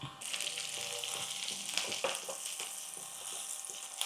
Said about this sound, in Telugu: ఉల్లిపాయ, పచ్చిమిరపకాయ కొంచెం వేగనిద్దాం.